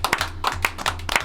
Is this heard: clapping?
yes